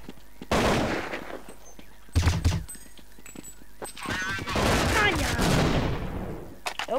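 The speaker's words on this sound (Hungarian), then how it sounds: "Össze-vissza lövök." Gunfire in a shooting video game, bursts of rapid shots and loud blasts with gaps between them, while someone talks over the action.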